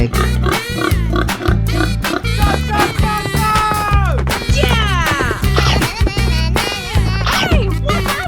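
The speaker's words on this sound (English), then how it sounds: "pig," A pig character oinks and squeals repeatedly in a 3D animal video game, busy and loud over continuous game music, with occasional whacking effects mixed in.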